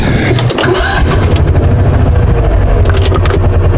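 A small utility vehicle (Mule) engine cranks and catches, then runs in a loud, rough chug close by.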